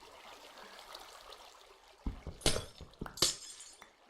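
Glass blocks shattering in Minecraft, a few sharp crashing breaks spaced about half a second apart after a quiet stretch with a faint watery trickle, close and clear.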